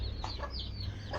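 A hen clucks in a few short, soft bursts, faint and somewhat distant over a low steady hum.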